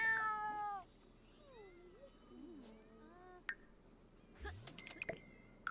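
Several short cat meows from a Sims 4 game, loud at first then quieter, followed by faint soft game clicks and effects with no talking.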